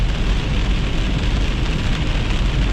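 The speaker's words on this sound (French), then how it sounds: "C'est vraiment des éclairs avec la forte pluie." Heavy rain pours steadily during a summer thunderstorm, a loud, continuous broadband hiss with no distinct thunderclap standing out, heard close and alone without voices.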